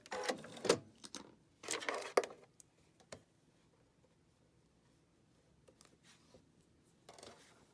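A sewing machine runs right off the edge of the fabric in two quick, close bursts of rapid needle chatter, then stops, leaving near-silence with faint handling taps.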